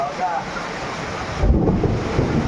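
A deep rumble of thunder swells over a steady hiss of heavy rain and wind.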